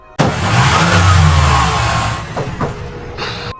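A car engine that has just been repaired starts with a sudden burst and revs up loud and close. It holds a strong rumble for about two seconds, then settles and fades into lighter idling with a few brief knocks.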